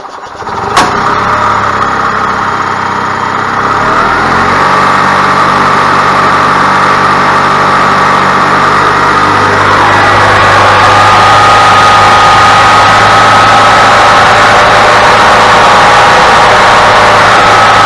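A rebuilt gas engine on an old EZGO golf cart, main drive belt not yet fitted, is started and then runs steadily. A sharp catch near the start is followed by a loud, continuous idle that lifts to a higher, busier running note partway through, with no talking.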